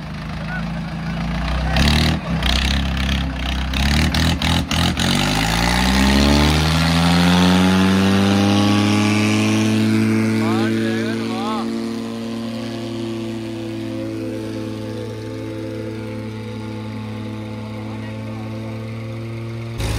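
A Swaraj 855 and an Eicher 551 tractor rev hard in a pulling contest, the engine pitch climbing steeply and then holding a strained, loud drone, with a voice audible early on.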